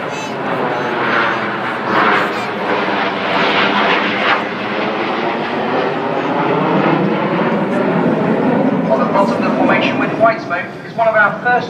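Red Arrows jets flying in Vixen formation at an airshow, a loud, sustained jet engine roar that swells and fades overhead, with a voice speaking throughout.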